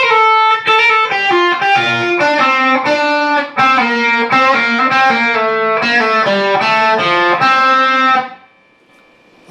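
A distorted electric guitar plays one measure of the solo, a fast run of picked notes in steady rhythm, loud and close, ending on a held note that fades into quiet.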